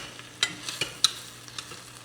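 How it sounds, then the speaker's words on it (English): Meat fries in a pan with a soft, close sizzle under a handful of quick scraping and clacking strokes as the bottom is scrubbed and the meat is flipped, with no talking. "So I like to just kind of scrub the bottom of the pan, really get all that caramelization."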